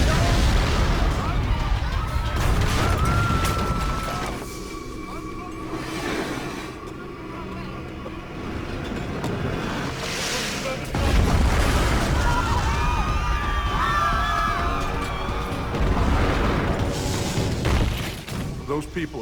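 Medieval cannon bombardment in a siege reenactment, several deep booms and rumbling blasts recurring irregularly with crashing debris, loud and layered under a narrating voice.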